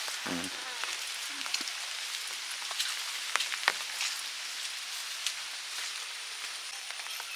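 Light rain patters softly on garden plants, making a faint, even hiss broken by a few sharper drips and taps close by.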